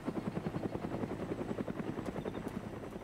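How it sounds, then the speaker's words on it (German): Rhythmic, heavy rotor chopping from a helicopter flying overhead in the survival game DayZ, loud and steady, slightly thinning toward the end, with no voices. "Da kriegen wir Besuch vom Hubschrauber."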